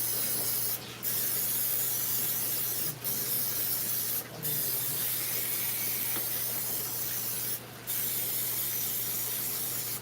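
Long continuous hissing bursts from a cooking spray can coating a muffin tin, broken by brief pauses between sprays, close and fairly loud with a low hum underneath.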